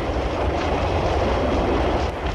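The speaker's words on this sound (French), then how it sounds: "Ces trains, dont chacun peut transporter presque autant de voyageurs qu'un rapide, s'arrêtent à des stations très rapprochées" A loud, steady rumble of a late-1950s Paris metro train in motion, with dense low-end roar and faint rattling, continuous throughout.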